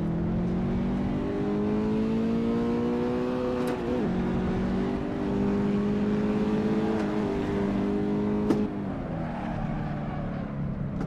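Race car engines in the Assetto Corsa racing game drone steadily at high revs, with pitch shifts as gears change and a couple of sharp clicks, loud and continuous without speech.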